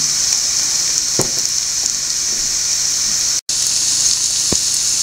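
Onions and spices sauté in a pan for a mutton peralan, a steady loud sizzle with a few faint stirring clicks and a brief dropout midway.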